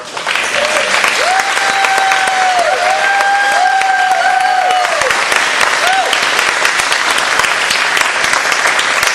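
Loud, sustained applause from a graduation audience fills the hall throughout, with whoops and cheers rising above the dense clapping.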